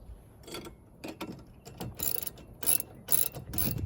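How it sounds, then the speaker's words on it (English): A 10mm socket wrench ratchets spreader bolts tight on a Chapin 8622B tow-behind spreader, giving short close bursts of clicking that come in a quickening, irregular rhythm with no talking. "tighten all these up using our crescent and 10mm socket"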